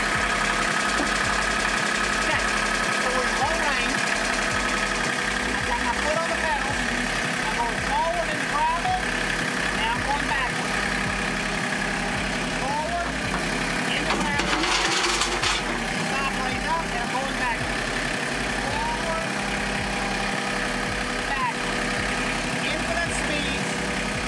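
A Mahindra tractor with a hydrostatic transmission runs at a steady idle, its low engine rumble continuous and fairly close for the whole stretch, with a brief louder burst midway.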